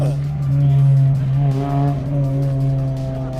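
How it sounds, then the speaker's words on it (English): A Honda NSX engine at a charity Honda and Acura car show holds a loud, steady, low idle hum with a rich harmonic tone that swells slightly, close and dominant throughout. "pretty cool sounding NSX though."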